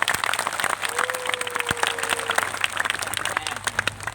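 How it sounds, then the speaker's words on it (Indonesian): Audience applause at a youth sholawat gathering fills the space as steady, dense clapping from a crowd, continuing throughout with a faint tone and brief noises mixed in. "Kurang keras tepuk tangannya."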